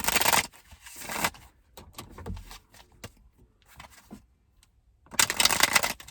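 A deck of cards is riffle-shuffled with bursts of rapid fluttering, then quieter taps and handling before another riffle.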